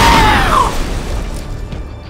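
An explosion in the video game Splinter Cell Conviction kills a guard: a loud, close booming blast with a whistling sweep, rolling into a long rumbling decay.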